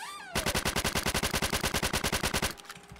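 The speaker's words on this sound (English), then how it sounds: "New Tommy gun." A Tommy gun in a video game fires a rapid, continuous burst of about two seconds, loud and close, with evenly spaced shots before cutting off into a short echoing tail.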